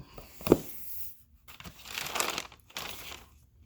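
Paper crinkles and rustles close by in several uneven bursts, with a sharper crackle near the start.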